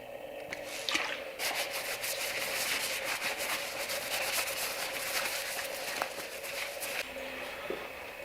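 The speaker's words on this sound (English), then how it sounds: "let's degrease it with alcohol" A rusty farrier hammer is wiped down with alcohol, giving soft continuous rubbing and wet swishing strokes with a few small clicks, close and fairly quiet.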